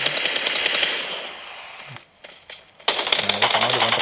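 Rapid automatic gunfire from a mobile shooting game rattles in dense bursts, breaks off into a short lull with a few scattered shots, then resumes hard and close, alone without talk.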